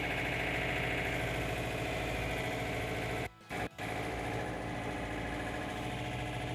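A John Deere 4066r compact tractor drives forward, its engine droning steadily and close throughout, with a brief dip near the middle and no voices over it.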